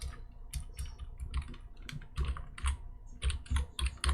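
Typing on a wireless computer keyboard: quick, irregular bursts of close, crisp key clicks and clacks, fairly quiet, with no talking.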